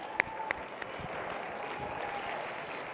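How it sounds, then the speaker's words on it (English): Guests at a colorectal cancer research foundation gala auction applaud, a steady wash of clapping that holds level for about three seconds, with a few sharp claps standing out near the start. "Round of applause for Sue Hamill."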